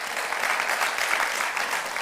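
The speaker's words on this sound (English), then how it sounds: "And radio station KCSB, and yes, applause, please." Audience applause at a film screening event, a dense, steady wash of many hands clapping at once, sustained evenly throughout.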